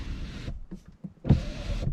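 A rear seat in a 2023 Range Rover reclines on an electric motor: two close whirring runs of about half a second each, split by brief clicks and bumps, with no voices.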